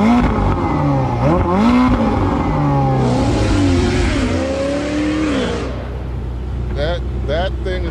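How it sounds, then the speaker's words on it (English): A Ferrari 488 GTB engine revs hard several times, rising and falling in pitch, with people talking over it. "Give us a little rev."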